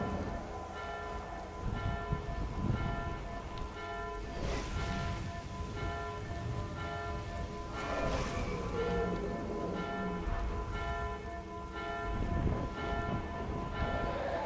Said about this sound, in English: there's my bells mod going off because of the dragon attack